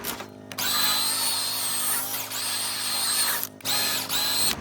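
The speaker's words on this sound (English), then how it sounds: "So I scrub it with a small attachment brush and a drill." A power drill fitted with a small brush attachment scrubs a car's carpet mat in a steady whine. The motor briefly stops and restarts twice, and it sounds close and loud.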